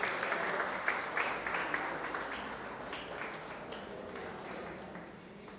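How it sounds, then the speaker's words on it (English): Applause from an audience at a prize announcement, a steady broadband patter of clapping that holds evenly for several seconds and thins slightly toward the end, with no talk over it. "Please big round of applause to him."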